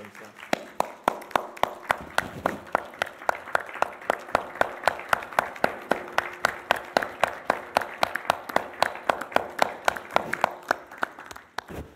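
Audience at an executive committee meeting clapping hands in a steady, rhythmic unison beat for about ten seconds, loud and close, with a murmur of voices underneath.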